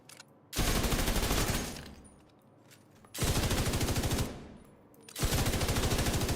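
Sustained bursts of light machine gun fire from The Division, three long loud volleys of rapid shots separated by short pauses, with no talking over them.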